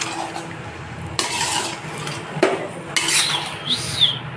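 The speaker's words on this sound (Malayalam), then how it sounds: "നന്നായിട്ട് ഇളക്കി കൊടുക്കാം." Tapioca masala curry stirred in a pot, a spoon scraping and knocking against the metal in uneven strokes, close and moderately loud, with no talking.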